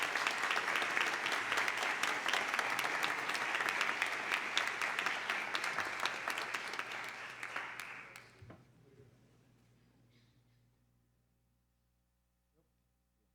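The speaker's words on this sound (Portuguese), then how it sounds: "uma salva de palmas aos homenageados, Felipe Chiarello e Núncio Teófilo Neto." An audience at a formal ceremonial session for a law faculty's 70th anniversary applauds honorees, steady dense clapping that holds for about eight seconds and then thins and dies away into near silence.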